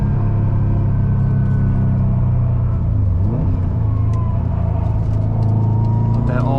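2018 Subaru WRX STI engine pulling steadily through a corner with all-wheel drive, a close, continuous low rumble and rising engine note heard from inside the cabin under a voice.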